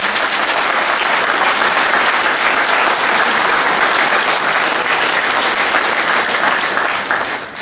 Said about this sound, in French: Je vous demande de l'applaudir une nouvelle fois